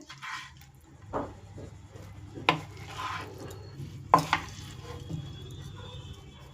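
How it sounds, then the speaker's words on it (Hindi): A spoon mixes chicken sandwich stuffing and spices into mayonnaise in a bowl, soft squelching stirs broken by a few sharp clinks against the dish. "इस तरह मायोनीज़ में स्टफिंग को डालकर अच्छी तरह से तमाम मसालों को मिक्स कर लेंगे"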